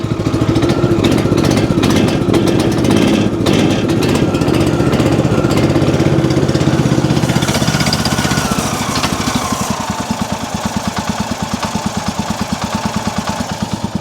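A Timber Thunder RS31G sawmill engine idles steadily after smoothing out, a continuous close mechanical drone with a fine rapid firing pulse throughout, no talk over it.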